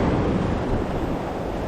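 Wind gusts across a beach during surf fishing, buffeting the microphone in a steady, loud low rumble with surf mixed underneath, no voices.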